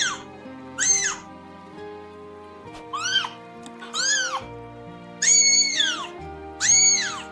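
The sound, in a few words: cat crying and screaming in a played kitty video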